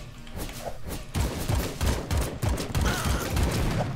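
Rapid gunfire from the bullet-hell video game AK-xolotl, dense repeated thumping shots firing in quick succession with a busy game soundtrack underneath, loud and continuous without talk.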